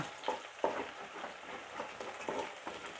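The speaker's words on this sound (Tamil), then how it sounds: "வெங்காயம் நல்லா வதங்கிக்கிட்டு இருக்கு" Onions and green chilies sauté in a pan for a fish curry, with a soft, continuous sizzle broken by a few quiet scraping stirs.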